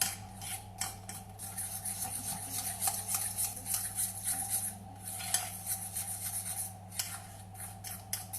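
Egg yolks, sugar and flour stirred in a bowl for a rolled chocolate hazelnut sponge cake, quiet repeated scraping and rubbing strokes of a utensil against the bowl in an uneven rhythm, no talk.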